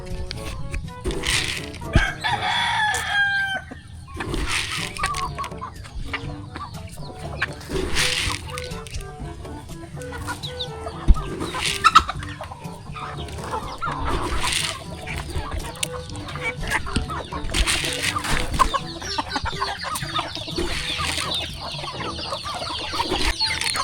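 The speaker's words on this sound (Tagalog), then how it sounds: "magpapakain na po muna ako ng mga alagang manok" Chickens cluck steadily nearby, with rooster calls and an occasional dog bark over a busy outdoor farmyard background.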